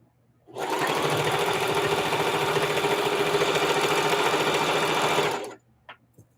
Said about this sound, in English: I'm starting from the bottom and I'm sewing a 1/4 inch seam